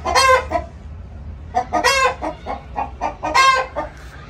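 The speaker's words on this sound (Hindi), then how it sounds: "चलो ये आपको इनकी मुर्गियां दिखाते हैं हम।" Chickens cluck and squawk in loud, close bursts, with a few sharp calls rising above the rhythmic clucking and short quiet gaps between.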